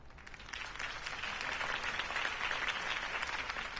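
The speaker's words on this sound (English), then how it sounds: "could have heard that applause" Steady crowd applause in the video game Batman: The Telltale Series, many hands clapping together at a constant moderate level throughout, slightly distant.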